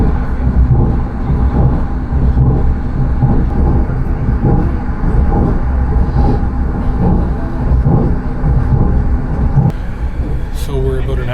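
A Tren Maya train in Mexico rumbles steadily along the rails with a low, constant roar and faint rhythmic clatter, loud and close, without any talking.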